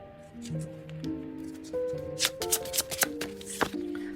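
Tarot cards are shuffled close up in quick, crisp riffles and soft slides, with denser fluttering bursts toward the end. The sound is quiet and stands alone without talk.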